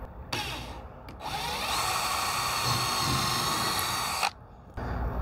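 An M5 bit drills out a filled, stripped threaded hole with a power drill, whining steadily for about three seconds after brief starts, then stopping, close and alone with no talk.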